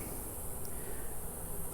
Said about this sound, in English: there's a lot of bees in this one too